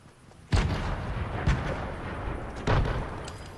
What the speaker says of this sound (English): I got some grenades I'm throwing right now.